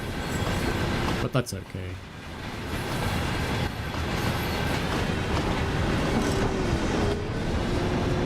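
Train carriages rolling on rails on the Semmeringbahn route in Train Sim World, a steady broadband rumble with brief clicks early on, continuous throughout while a voice talks over it.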